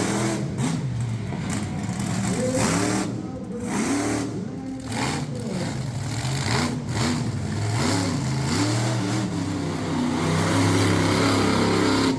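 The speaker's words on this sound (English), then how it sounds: "Sliding that truck all the way around as he gets ready for his next set of hits." Monster truck engine at a Middletown, New York event revving hard as the truck slides all the way around, loud surging roar rising and falling repeatedly throughout.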